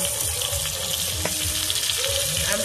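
Mango pieces and spices fry gently in a pan for a sour-spicy mango kasundi pickle, giving a steady, close, even sizzle with faint stirring scrapes and no talk.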